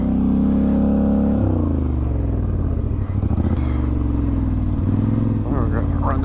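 ATV engine revving loudly up close on a desert trail ride in Arizona, a steady throaty exhaust drone that shifts pitch around a second in and rises again near the end, continuous throughout.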